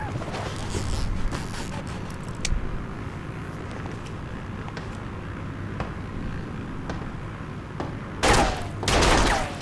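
Gunfire from the video game Serious Sam 4 crackles as scattered sharp shots over a steady low rumble, with louder bursts of fire near the end.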